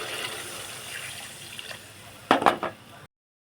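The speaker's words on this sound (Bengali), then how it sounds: "এবার আমি জল দিয়ে দেবো" Water is poured into a mustard pomfret fish curry in a pan, making a brief, splashing gush after a quiet stretch of low cooking noise, then cutting off abruptly.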